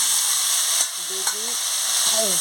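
Ivy gourd, potato and vegetable stalks fry in a pan with browned onions, giving a loud steady sizzle close by, with a couple of soft clinks from stirring and a brief faint voice.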